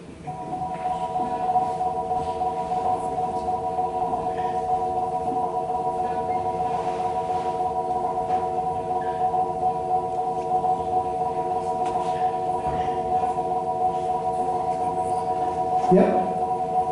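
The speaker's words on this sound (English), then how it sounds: "that sound you're hearing is the frequency tone that's made by CBD cannabis oil that's organically grown." Steady electronic frequency tone, said to come from organically grown CBD cannabis oil, holding several sustained pitches. It runs continuously and fairly loud, with faint voices and small noises underneath and a brief louder bump near the end.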